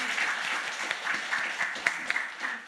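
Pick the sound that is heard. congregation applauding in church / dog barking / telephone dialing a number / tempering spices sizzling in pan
congregation applauding in church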